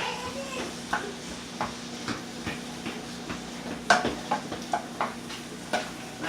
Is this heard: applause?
no